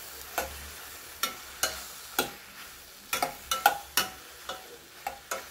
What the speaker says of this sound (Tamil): நேந்திர பழம் நல்லா வணங்கிடுச்சு.